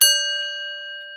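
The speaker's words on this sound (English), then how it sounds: "we gonna hit the gong" A single gong strike with a bright, clear attack and a pure, ringing tone that decays slowly, heard alone.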